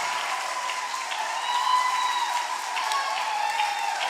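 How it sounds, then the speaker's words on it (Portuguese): Church congregation clapping in steady, sustained applause, a dense even patter that swells slightly midway and holds to the end. "Aplauda mesmo, irmãos."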